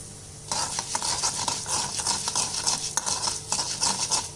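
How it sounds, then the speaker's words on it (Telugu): Loud sizzling of urad dal and mustard seeds frying in hot oil on low flame starts abruptly and continues with crackling pops and occasional stirring clinks. "మినపప్పు లో ఫ్లేమ్లో పెట్టి గోల్డెన్ కలర్ వచ్చేలాగా వేపండి"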